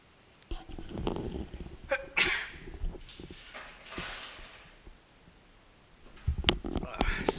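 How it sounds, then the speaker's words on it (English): A single loud, close sneeze bursts out from a person during a live coding stream, standing clear above quiet background clatter and shuffling. "Excuse me, sorry for the sneeze."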